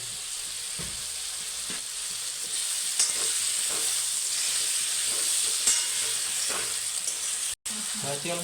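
Chopped chibhda, a gourd-like vegetable, sizzles in hot oil for a village-style Kathiyawadi saak, a steady bright crackle with occasional stirring clinks and one brief dropout near the end.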